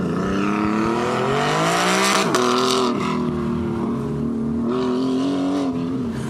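A race car pulls hard away at an autocross course in a stadium, its engine note climbing steadily through the gears and staying loud and continuous with no talk over it.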